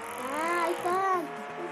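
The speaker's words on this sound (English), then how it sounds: "this car is fast" A fast car in the Roblox Jailbreak video game revs with rising and falling engine whines, close and moderately loud, with a player talking over it.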